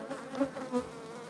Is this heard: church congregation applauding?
no